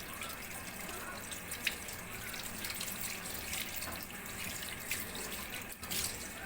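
Pabda fish rinsed under a running kitchen tap, a steady close hiss of flowing water with faint splashes and drips as the fish is handled, no voices.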